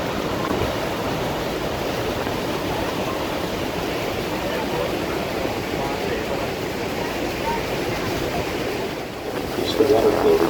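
Niagara Falls' American Falls heard from a passing boat, a steady loud roar of falling water and surf that stays constant throughout, with a boat engine and a voice faintly underneath.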